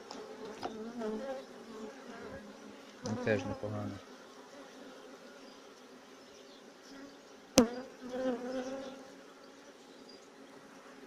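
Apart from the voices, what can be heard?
honey bees buzzing at an apiary hive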